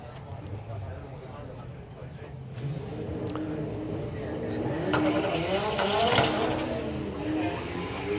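A Mustang drag car launches and runs down the strip at a Doorslammers event, a steady, broad engine roar that builds slightly as it goes, heard from a distance under continuous announcer commentary.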